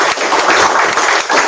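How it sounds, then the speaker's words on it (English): Audience applause at a TAKathon event, a steady wash of clapping from a crowd filling the short moment with no voices over it. "Let's have a round of applause."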